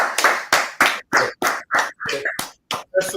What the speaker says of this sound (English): But clap it up.